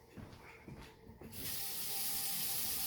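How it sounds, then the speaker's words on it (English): Tap water runs into an old cast iron pot for mashed potatoes, starting abruptly after a few soft clinks and then pouring in a steady, loud hiss that continues to the end. "let me put some water in it"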